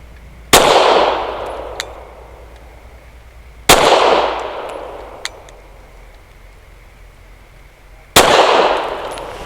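An Avidity Arms PD10 pistol fires 150 grain Federal Syntech Action Pistol rounds, three loud, sharp outdoor reports spaced a few seconds apart, each trailing off in a fading echo.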